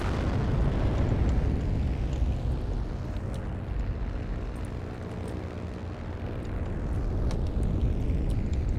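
A bomb explosion in the Heroes and Generals combat game, a deep, rolling, loud boom that swells and fades over a continuous rumble of aircraft and battle noise, with no talking.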